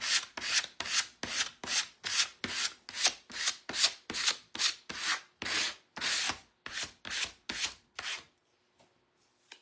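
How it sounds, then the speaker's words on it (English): A gift card scraping firmly back and forth across a wooden barn quilt surface in a steady rhythm of about twenty close, rasping strokes, stopping near the end into quiet. "I'm just going to do some scraping"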